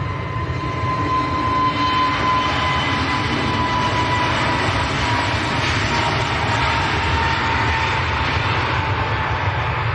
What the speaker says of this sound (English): EasyJet to Sharm el Sheikh on the roll.